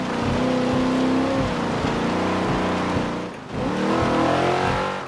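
A race car in Forza Motorsport 7 roars continuously at high revs, its engine tone sliding through a quick downshift dip before surging back up as it accelerates hard, loud and close throughout.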